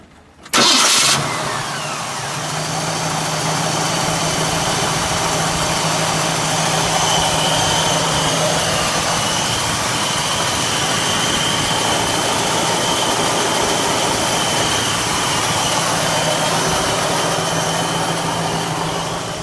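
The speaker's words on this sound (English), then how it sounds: "let's fire it, shall we? We'll let it idle, and then we'll give it a little rev." A 1967 Mercury Cougar XR7 engine cranks and catches with a sharp burst, then settles into a steady, loud idle through a single exhaust that drones on for the rest of the clip.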